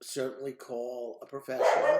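A house dog barks and yips at a passing UPS delivery driver, short bursts close to the microphone, overlapping someone speaking.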